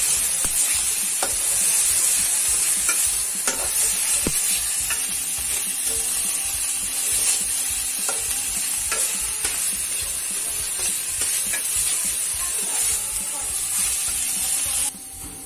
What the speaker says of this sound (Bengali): এখন আমি এটাকে নাড়াচাড়া করে